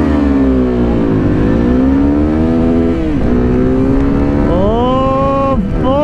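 A KTM Adventure 250 and a Suzuki V-Strom 250 drag race, with a loud, close engine drone held steady at high revs. The pitch sags and climbs at each gear change, and a rider lets out a brief exclamation.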